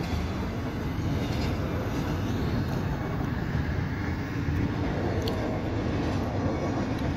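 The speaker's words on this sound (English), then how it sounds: "here comes the Metrolink" A Metrolink commuter train passes at a Cridge Street crossing with a steady, broad rumble and rushing wind noise that stays constant and fairly close throughout.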